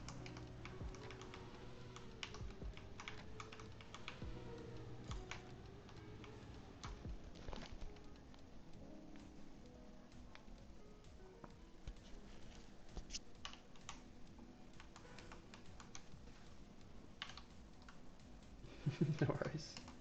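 Computer keyboard keys clatter in irregular bursts as someone plays a racing game, close, quick taps continuing throughout over a low background hum, with a louder flurry near the end.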